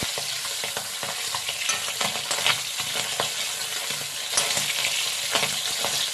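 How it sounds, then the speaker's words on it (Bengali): Tangra fish fry crisply in a pan for a Bengali curry with cauliflower and potato, a steady close sizzle broken by scraping stirs and sharp spattering pops. "সেগুলো ভেজে নিচ্ছি একটুখানি কড়া করেই ভাজছি"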